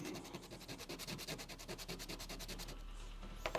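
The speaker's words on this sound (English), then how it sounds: "a bit of sandpaper and a slightly stiffer brush" Sandpaper and a stiff brush rubbing and scrubbing a small N scale model train scenery piece, a close, quiet run of fast, even scratchy strokes with a louder scrape at the very end.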